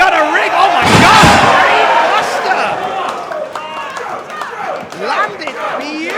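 A professional wrestling brainbuster lands with a heavy slam on the ring mat, loud and close amid a roaring crowd, while an excited commentator talks over the impact and the cheering that follows.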